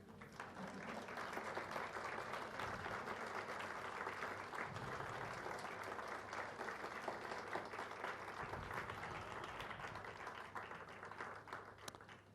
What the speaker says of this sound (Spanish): ¿Qué tal si nos paramos y le damos un aplauso al Señor?